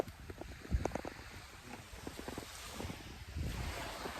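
Sea waves wash onto a hot beach at Mauban, Quezon, as a low, steady surf roar with gusts of wind buffeting the microphone and a few faint knocks, with nobody talking.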